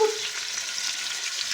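Tomato sauce seasoned with oregano sizzles in a saucepan, a steady close frying hiss that runs continuously with no voices.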